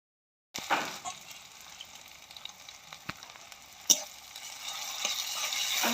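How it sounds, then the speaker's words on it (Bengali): Garlic paste and spices sauté in a pan with onions and cumin for a Bengali Bombay duck curry, starting from silence into a steady sizzle with scattered pops and a louder spatter midway. "মশলাটাকে একটু কষিয়ে নিলাম।"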